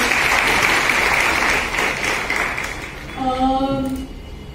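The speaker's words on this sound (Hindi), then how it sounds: "त्यांच्यासाठी सुद्धा आपण जोरदार टाळ्या वाजवूया" A live audience claps loudly and steadily for several seconds, the applause slowly thinning before a tonal sound cuts in near the end.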